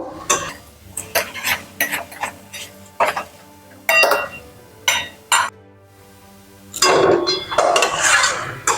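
A utensil scrapes and clinks in a pan as methi greens are stirred with broken lentil dumplings and fried eggplant. Short separate bursts of stirring come first, followed by a longer, busier stretch of clattering near the end.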